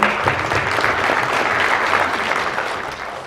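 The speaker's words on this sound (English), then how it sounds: "Please give a round of applause to them." A conference audience breaks into applause, a dense, steady wash of clapping that holds at an even level throughout, with no voices over it.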